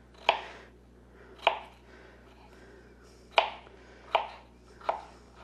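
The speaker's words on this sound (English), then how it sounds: "I just cut the potato in 3 lengthwise, and then just probably about a 1/2 inch." A knife slicing a potato into half-inch pieces on a cutting board, five distinct sharp chops spaced about a second apart, close and clear over a quiet background.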